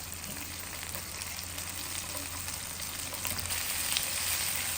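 Butter melts in a pan with a steady, soft sizzle and faint crackle, continuous and close, gradually growing a little louder with no voices.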